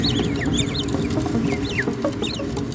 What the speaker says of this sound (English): called the soft chirp. All naked mole rats use it a lot.